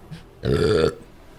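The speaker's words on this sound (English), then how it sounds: "I did a burp." A single loud, close burp lasting about half a second, with no other sounds around it.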